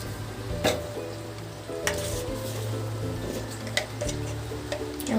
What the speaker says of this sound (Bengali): আমি সবজিগুলো এবার ভেজে নেব